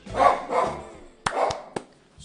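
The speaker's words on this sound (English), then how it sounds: "he goes running into the kitchen and he's barking at the water cooler" A small puppy barks at a kitchen water cooler: a few close, sharp yapping barks followed by short clicks and knocks, then quiet.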